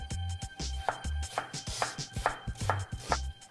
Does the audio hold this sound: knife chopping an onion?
yes